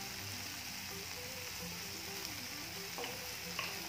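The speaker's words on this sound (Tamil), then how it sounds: "நல்லா கிள்ளி விடணும், மசாலா நல்லா சேரணும்." Masala of turmeric, amchur powder, salt and tomato for potato and fenugreek-leaf curry sizzles steadily in a pan while being stirred, a continuous close frying hiss with faint utensil scrapes near the end.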